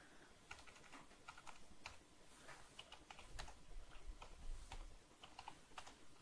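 Typing on a computer keyboard, quiet rapid clicky keystrokes in uneven bursts close by, with no voice.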